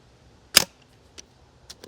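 A single sharp crack from an AAC-C1 CO2 airgun fired through a chronograph on a cold outdoor range, followed by a few faint small ticks and clicks.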